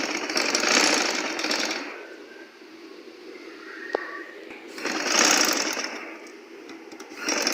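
A sewing machine stitches a button cuff sleeve, with two close bursts of rapid, even machine chatter separated by a quieter pause with a brief click, and no talking.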